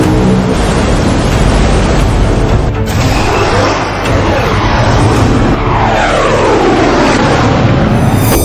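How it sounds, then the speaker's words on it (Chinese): A formation of fighter jets roars overhead, a loud continuous broadband rush with sweeping pitch shifts as aircraft pass close by, no voices present. "是我们的战斗机，这是我大夏的战机编队。"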